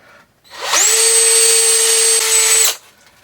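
A power drill with dull drill bits spins up and whines steadily for about two seconds while boring into material, then winds down, loud and close.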